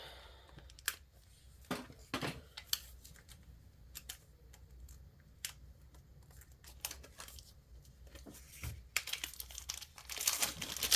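Close, quiet crinkling and snipping as scissors cut open a package, with scattered sharp cuts and rustles growing busier toward the end.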